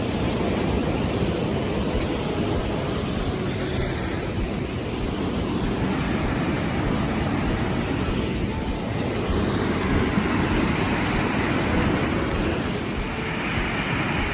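A cascading waterfall pours along a riverbed at Mt Rainier, a loud, steady broadband roar of rushing water with no pauses or other sounds.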